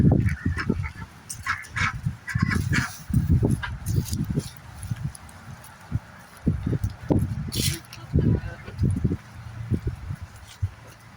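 Backyard ducks and chickens call nearby in loud, repeated bursts of quacking and honking, coming in quick, irregular runs with short pauses between them.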